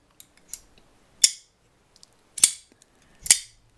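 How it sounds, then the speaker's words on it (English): An Alliance Designs Mini Slim Pickins Full Dress pocketknife is snapped closed three times, each one a loud, sharp, close clack, with small handling clicks between them in a quiet room. "It's beautiful, it's clacky, it's loud, it's percussive, it's piercing."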